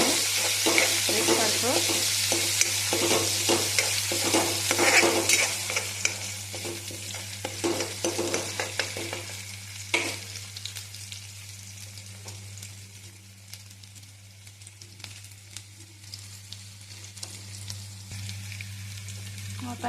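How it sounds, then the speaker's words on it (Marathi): Finely chopped tomato sautéed and stirred in a pan for matki rassa bhaji, loud sizzling with repeated spatula scrapes early on, the frying settling into a quieter hiss with sporadic stirs; a brief spoken word is heard. "आता याच्यामध्ये आपण एक बारीक चिरलेला टोमॅटो घालूया। हे सुद्धा आपण छान परतून घ्यायचं आहे"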